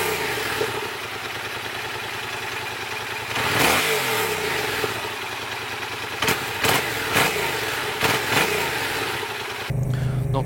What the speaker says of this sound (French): Et pour la comparaison, je vous mets le son d'origine de la MT-07.